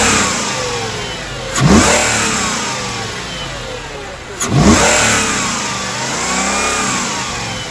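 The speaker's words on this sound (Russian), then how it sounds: "Так, давай погазуем, посмотрим выхлопушку." Mercedes M113 V8 swapped from an S500 W220 into a W211 E500, revved twice from idle, with two sharp exhaust surges and falling engine notes in between, close and loud.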